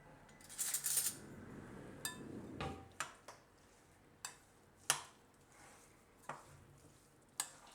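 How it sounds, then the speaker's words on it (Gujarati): A spoon stirs curd into a savoury kang millet mixture in a bowl, making a sparse series of faint clinks and taps against the vessel at irregular intervals, close but quiet, with no voices. "હવે આ બધું આપણે મિક્સ કરી લેવું."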